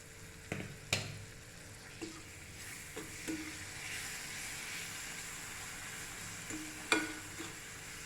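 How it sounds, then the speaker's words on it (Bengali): Chopped tomato frying in a pan for paneer bhurji, a gentle continuous sizzle with a few sharp taps and stirring knocks, quiet and close. "এটাকে কিছুক্ষণ এইভাবে ভাজবো।"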